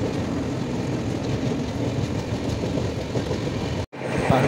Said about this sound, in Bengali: ক্রসিং করছি হাওড়া বর্ধমান লোকাল।